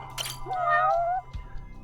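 A black cat in the PS5 game Judgement gives a single drawn-out meow at moderate distance, sitting over low background game ambience with a brief clatter near the end.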